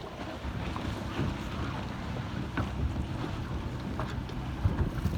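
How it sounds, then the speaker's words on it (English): Wind gusting over a sailboat racing on Pensacola Bay in lighter air of about 8 to 10 knots, a steady broadband rush with faint water wash and occasional soft knocks, continuous and fairly close to the microphone. "the wind has gotten much lighter"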